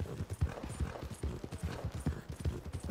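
A horse gallops in the video game Red Dead Redemption 2, with a quick, steady rhythm of hoofbeats throughout and no talking.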